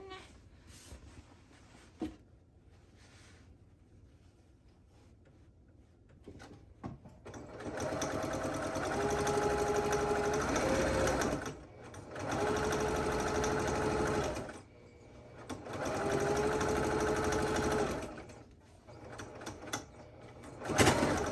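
A sewing machine stitches a French seam on a fabric drawstring bag, running in three steady whirring bursts separated by short pauses, close and fairly loud with faint background sounds between runs.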